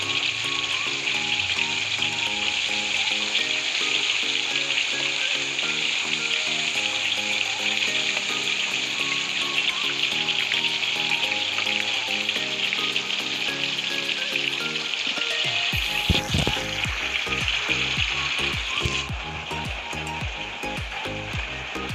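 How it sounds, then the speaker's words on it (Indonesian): Tomatoes frying in hot oil for Lamongan-style pecel lele, a steady loud sizzle and crackle that runs throughout with occasional stirring clatter, close to the pan. "Nah, kita goreng begini."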